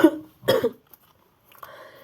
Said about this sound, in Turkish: sürekli öksürük geliyor